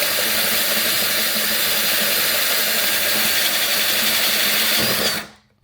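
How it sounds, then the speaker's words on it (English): A power drill bores an 8mm hole through a metal MOLLE plate for a Land Rover Freelander 2, a loud continuous whirring grind that runs steadily before abruptly stopping. "now we've got to drill that out"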